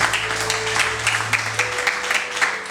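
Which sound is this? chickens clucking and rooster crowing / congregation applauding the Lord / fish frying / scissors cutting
congregation applauding the Lord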